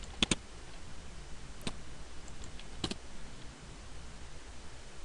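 Computer keyboard typing: scattered soft clicks and a few sharper taps, close and quiet, with pauses between keystrokes and faint background hiss.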